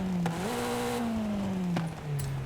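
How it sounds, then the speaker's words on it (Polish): Racing exhaust on a 2021 Lynk & Co 03+ widebody in Forza Horizon 5 revs steadily, its pitch climbing once and then sagging slowly, loud and close with no talk. "Tu mamy sportowy wydech."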